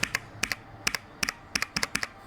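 Crisp clacking keystrokes on a custom-built mechanical keyboard, typed in quick pairs and short bursts, close and clear.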